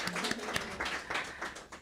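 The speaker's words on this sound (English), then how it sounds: "Open the eyes and stop and give yourself an applause." A small group applauds after a guided movement exercise at a reading, with brief, soft clapping bursts that sound close and scattered over less than two seconds.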